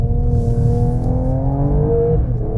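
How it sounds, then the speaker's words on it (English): A 2021 Mercedes-AMG E53 or E63S engine revs and climbs in pitch, heard from outside, loud and close with rising and falling harmonic tones and a faint turbo whine. "So everything that you hear is authentic engine sounds."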